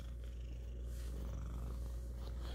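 A pet cat named Ike purrs in a continuous low rumbling drone, soft and very close, with no talking over it.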